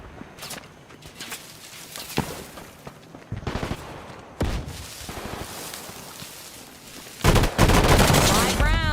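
Gunfire in the Combat Champions shooter game, with bursts of rapid shots and single cracks scattered across the scene, footsteps between them and a heavy barrage near the end, while a player talks at times.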